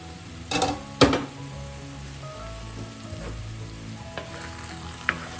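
A potato, carrot and beetroot stir fry sizzles softly in a pan, with two sharp utensil clanks early on, then a low steady hiss, occasional faint scrapes and a small tap.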